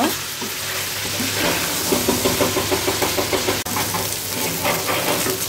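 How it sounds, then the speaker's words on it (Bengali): Shrimp fry in a pan for a prawn dopiaza, a loud, continuous sizzle close by with a regular rhythm of stirring scrapes and turns running through it. "আমি চিংড়ি মাছগুলোকে উল্টিয়ে দিয়ে একটু শক্ত হলে নামিয়ে ফেলব"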